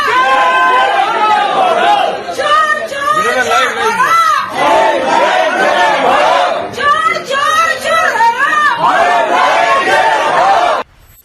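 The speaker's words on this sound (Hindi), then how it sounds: "अरूप रॉय के लिए कंबल चोर और तिरपाल चोर के नारे लग रहे हैं।" A large, agitated crowd outside the Howrah home of a West Bengal minister chants rhythmic protest slogans in loud repeated bursts, voices rising and falling together with shouting and chatter between the chants.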